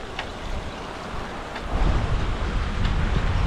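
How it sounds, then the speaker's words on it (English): Steady rain patters and hisses during an afternoon bike ride along a stream, a dense close wash that grows heavier and louder midway, with wind rumble and no voices. "seems like it's starting to rain a little bit more."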